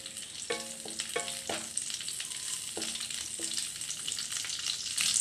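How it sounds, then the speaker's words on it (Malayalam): Cashews and raisins frying in hot ghee for a payasam, with a steady close sizzle and a few sharp clinks of a spoon against the pan, no voices. "നെയ്യ് ഒന്ന് ചൂടായതും നമ്മുടെ അണ്ടിപ്പരിപ്പ് മുന്തിരിയും കൂടെ അതിലേക്ക് ആഡ് ചെയ്ത് കൊടുക്കാം."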